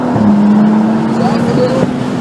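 A BMW race car accelerates on track at Circuit of the Americas, its engine droning loud and close with a rising pitch under steady road and wind noise.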